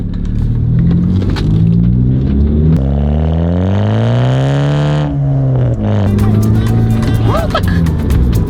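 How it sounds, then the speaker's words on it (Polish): A car exhaust with a modified exhaust and cone air filter rumbles at idle, then revs up in a rising then falling sweep before settling back to a throaty idle, with brief noises near the end. "Posłuchajmy wydechu, bo tu jest wydech zrobiony, jeszcze stożek jest, nie?"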